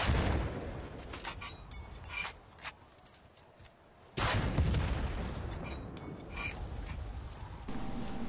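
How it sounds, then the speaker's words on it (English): Carl G rocket launcher shots and explosions hit a tank in Battlefield Bad Company 2, with two sharp, loud blasts separated by a quieter lull amid ongoing battlefield gunfire. "the Carl G requires you to shoot 2 times"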